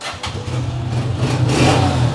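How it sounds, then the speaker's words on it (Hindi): A used Honda 125 motorcycle engine, started by self-start, runs steadily with a low, throaty rumble, building slightly louder as it revs near the listener. "होंडा 125 सेल्फ स्टार्ट, सेल्फ ने किया, हाफ पुश करने पे स्टार्ट हुई है बाइक"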